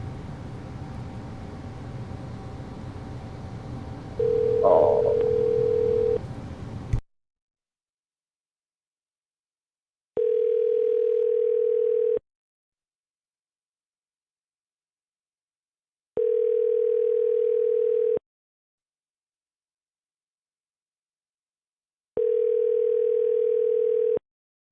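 A telephone dial tone and ringback sound while a number is being called. Muffled background noise comes first, then three loud, even ringing tones with silence between them.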